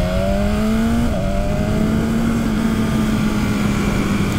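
A 2019 BMW S1000RR motorcycle engine on a test ride holds a loud, steady droning tone at cruising speed, with a brief dip in pitch partway through, heard close and continuously over rushing wind noise.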